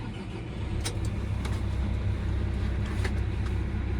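A Fendt tractor engine starts up and settles into a steady, close, low diesel rumble with faint clicks over it and no voices.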